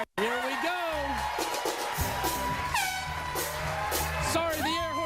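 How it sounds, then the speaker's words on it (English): An air horn blasts to start a race on a TV talk show set, a loud sustained honk under cheering and shouting from a crowd, with people talking over it. "the air horn was a little bit late"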